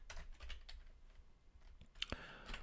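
Quiet, close typing on a computer keyboard: a few soft keystrokes in short bursts, with one sharper clack near the end.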